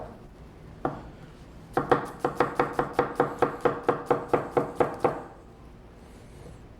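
Knife mincing garlic on a cutting board, a single knock followed by a quick, evenly spaced run of about fifteen crisp chops, close and distinct, then quiet, with no talking.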